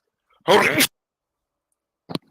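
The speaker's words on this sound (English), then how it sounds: "I had to sneeze." A single sharp sneeze, close and loud, followed after a pause by a brief faint sound.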